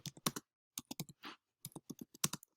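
Fingers type on a computer keyboard in a quiet room, producing short clusters of crisp, close keystrokes separated by brief pauses.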